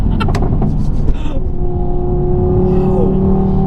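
A Stage 2 Mk3 Audi TT RS accelerates hard uphill, its engine roaring loud and close with a rising drone and a brief shift-like break, while a voice talks over it early on.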